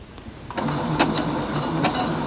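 A sewing machine stitching a quilt, a continuous close whirring motor with faint rhythmic clicks of the needle mechanism starting up after a quiet moment.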